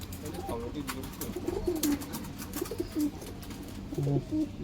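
A pair of Madrasi pigeons coo in soft, repeated low calls close by, with short pauses between phrases and someone talking intermittently over them.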